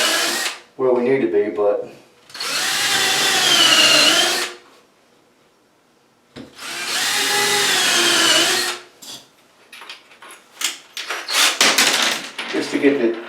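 A power drill with a countersink bit spins up in two long, loud bursts on a toilet flange repair job, its pitch rising and falling as it bites, with someone talking between and after the runs.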